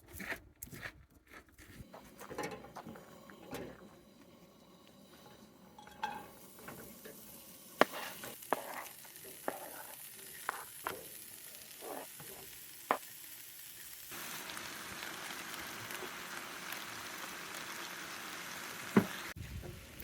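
Food frying on a camp stove outdoors at a cabin, steak sizzling steadily at low volume, with scattered clicks and clinks of utensils and a brief rustle early on.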